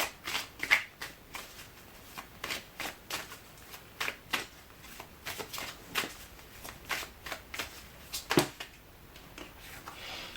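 Playing cards being shuffled close by, a run of quick crisp riffles and soft flicks in an irregular rhythm, fairly quiet, with no speech.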